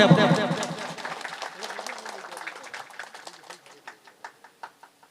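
A crowd applauds at an Independence Day welfare foundation ceremony. The clapping starts loud and dense, then thins out to a few scattered, separate claps that fade near the end.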